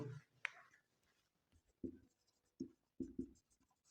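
Pen strokes on paper during a Hindi history lesson, a few short scratchy bursts of writing separated by pauses, fairly close and quiet, with no talk.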